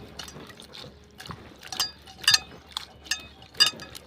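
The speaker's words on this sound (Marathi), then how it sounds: "आणि वालवर ही आपली धुवून घेऊया." Hulled val beans being washed in a pot of water make a series of close, intermittent splashes and sloshes with small trickling drips between them, the swishes coming in uneven bursts with no voices.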